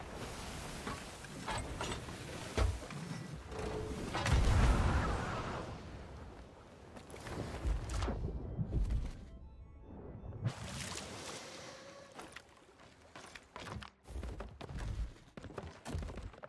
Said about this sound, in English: Wow, lots of fireworks.